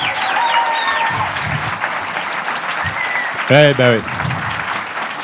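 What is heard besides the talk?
audience applauding at film festival awards ceremony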